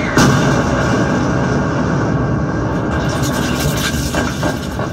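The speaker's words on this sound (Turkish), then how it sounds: "göğü inleten bir patlama sesi geldi" A loud, sustained rumbling roar like a heavy blast fills the whole stretch at a 1915 trench reenactment, dense and low, with a few sharper cracks near the end.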